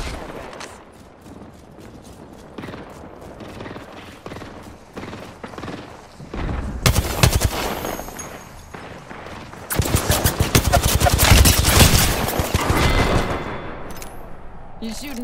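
Gunfire in the video game Apex Legends, scattered shots early on building to dense, loud automatic bursts in the middle and later, with sharp mechanical clicks and no talking.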